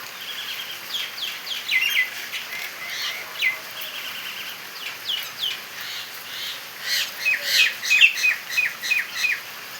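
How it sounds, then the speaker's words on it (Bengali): Several birds chirp and tweet in the rain while feeding, a steady chatter of short high calls that grows busier and louder toward the end, with faint rain hiss underneath. "দেখো ভিজে ভিজে খাচ্ছে পাখিগুলো"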